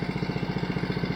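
A Honda HRC216 commercial walk-behind lawn mower runs steadily beside a barn, its engine giving a loud, close, evenly pulsing drone with no talk over it.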